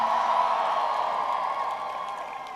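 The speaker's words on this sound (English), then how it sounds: "Figured I'd get the loudest applause if I said that." An outdoor university commencement audience claps and cheers, a soft, diffuse wash of applause that gradually fades.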